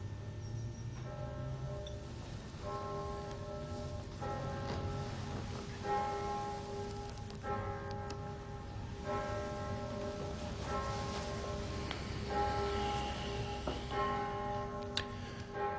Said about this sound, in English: And then the bells started to toll.